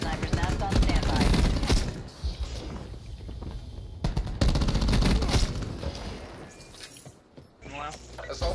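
Saug 9mm submachine gun bursts in Call of Duty Black Ops 4, loud rapid fire in several volleys mixed with game voice callouts and effects.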